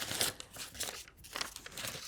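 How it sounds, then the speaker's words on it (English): Scissors snip and cut around a paper template for a wet felt butterfly picture, giving crisp crinkling and rustling paper noises in a steady, close sequence. "snip it so that you can drop your scissors into the hole, and then just cut round like that"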